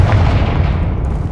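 A single loud, close fiery blast from the Confringo spell in Hogwarts Legacy, a dense booming explosion that rolls and fades over about a second.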